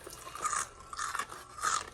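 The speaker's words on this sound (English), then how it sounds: "It's crunchy though. You hear me crunching?" Close, crisp crunching and chewing of freshly fried chicken, three bursts of biting in steady succession with no talking.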